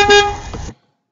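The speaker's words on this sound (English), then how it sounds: "Car horn." A single car horn sound effect blares loudly and steadily for a bit over half a second, then cuts off cleanly into silence.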